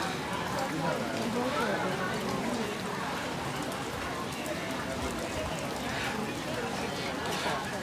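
Rain pours steadily on the Mon Bridge as a dense, even hiss of drops close by, while someone talks over it.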